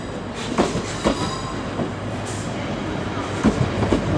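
Train moving through Manchester Piccadilly railway station, with rhythmic clickety-clack wheel thumps over rail joints at close range under a steady rumble, and no one talking.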